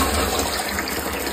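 Borewell water under strong pressure gushes into drums, a dense, steady rushing splash close by with no talk over it.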